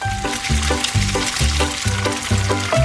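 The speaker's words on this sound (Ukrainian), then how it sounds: "і обсмажимо в киплячій олії" Fish-shaped breaded cutlets fry in boiling oil, a continuous loud sizzle with a rhythmic low thumping pattern repeating every half second underneath, no voices.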